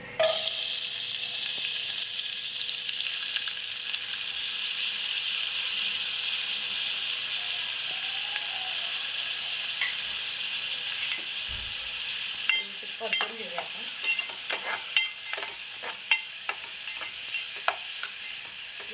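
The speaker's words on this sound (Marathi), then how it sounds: "कांदा टाकून घेऊया" Onions fry in a pan for Malvani-style prawn chutney, a steady bright sizzle running throughout, joined in the second half by clustered scraping and clattering stirs; close and fairly loud, no talking.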